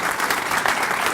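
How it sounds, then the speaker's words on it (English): Short burst of steady applause at a governor's bill signing for the Energy Modernization Act, a dense crowd clapping evenly throughout without pause. "Y'all give them a round of applause"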